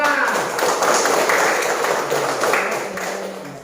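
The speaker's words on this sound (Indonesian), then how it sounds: "tepuk tangan kepada kelompok 2" Classroom students clapping for a presenting group, a brief burst of dense handclaps from a nearby class that fades slightly toward the end.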